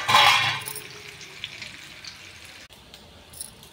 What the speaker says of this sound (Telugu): ఇప్పుడు ఇవి ఫ్రై చేసుకుందాం.